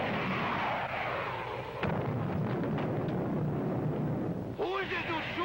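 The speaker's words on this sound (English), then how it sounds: "Prepare to fire 2 missiles on a 5-count, Biff." Two missiles fired from a launcher and exploding on a test range, a sudden sharp report near two seconds swelling into a long loud rumbling roar, with a voice speaking over the blast toward the end.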